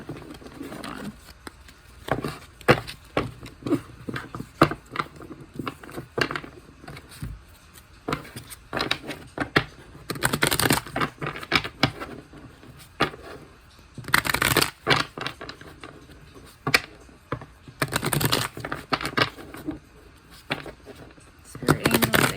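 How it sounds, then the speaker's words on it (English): Tarot cards shuffled by hand in bursts of soft scraping and rapid papery riffles, close and moderately quiet, with brief pauses and sporadic light taps between them. "Shuffle the cards."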